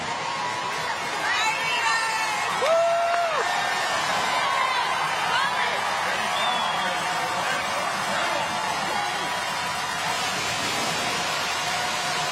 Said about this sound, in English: Great crowd on hand in Eastern Mississippi